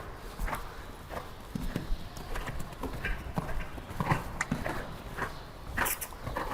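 Horse hooves clip-clopping at a steady walking rhythm during a riding lesson for jumping training, moderately close, with faint ambient arena noise.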